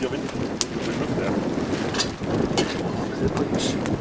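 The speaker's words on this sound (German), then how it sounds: "Das ist hier Wind. Das ist Wind, ja." Wind blows outdoors at a Christmas mulled-wine stall, a steady rumbling gust buffeting the microphone throughout, with faint voices and occasional small clinks underneath.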